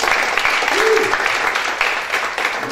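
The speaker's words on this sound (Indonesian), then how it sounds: "tepuk tangan bagi Maria lagi" A church congregation applauds Maria in a brief, lively burst of clapping, with a short voice sounding briefly over it.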